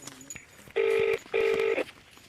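Two loud, steady telephone keypad tones beep in quick succession, close and clear, over faint background noise.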